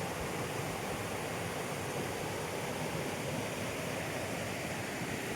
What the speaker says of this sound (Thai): มีลำธารสวยงามนะครับผม